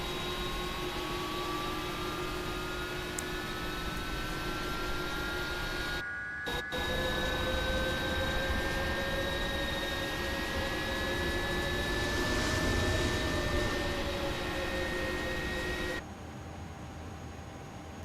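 A simulated jet engine on an IniBuilds A300-600 airliner in a flight simulator spools up during engine 2 start, a steady rising whine with rising tones heard from outside the aircraft, continuous and fairly loud with a brief dropout midway.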